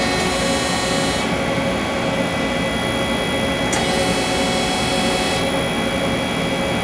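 Hyundai HIT-15S CNC turning center with tool probe, spindle running with a steady loud mechanical whine and broadband hum throughout, a brighter high-pitched layer cutting in and out partway.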